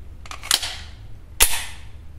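Two sharp gunshots from a Taurus TX-22 pistol chambered in .22 LR, about a second apart, each a crisp crack with a brief bright tail, heard close with no talk.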